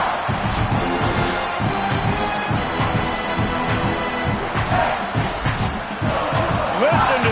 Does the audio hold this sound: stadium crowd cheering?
yes